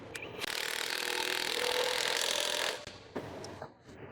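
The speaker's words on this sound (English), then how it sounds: "Tighten the lug nuts with a 19mm socket." Lug nuts on a Ford Fusion wheel are run down with a 19mm socket on a power tool, a steady loud whirring buzz for about two and a half seconds that then stops, followed by a few faint clicks and handling noises.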